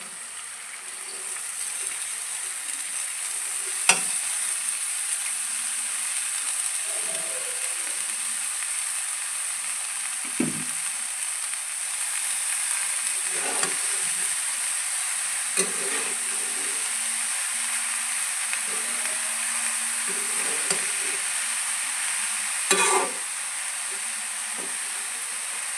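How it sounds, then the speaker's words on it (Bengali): Onion and chili frying with vegetables in a pan give a steady, broad sizzle and hiss throughout, broken by occasional clinks and scrapes of stirring. "পেঁয়াজ মরিচটাকে 5 মিনিটের মতো ভেজে নিচ্ছি"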